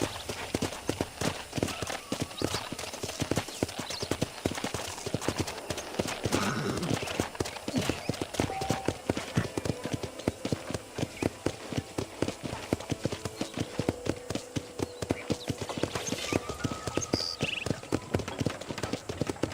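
Steady clip-clop of horse hooves in a continuous trotting rhythm in the video game Red Dead Redemption, with occasional faint whinnies and light background sounds.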